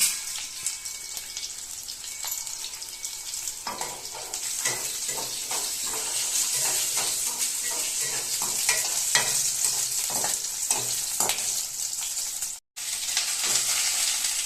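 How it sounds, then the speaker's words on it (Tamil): Mustard seeds splutter and crackle in hot oil in a home kitchen, a continuous close sizzle with rapid popping and occasional stirring clinks throughout, briefly cutting out near the end. "நல்லா கடுகு பொரியுது"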